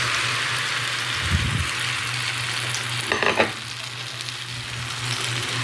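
Eggplant fries in hot oil in a pan for tortang talong, a loud, continuous sizzling hiss with a low hum and a brief burst of clattering around the middle.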